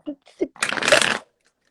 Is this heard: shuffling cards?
yes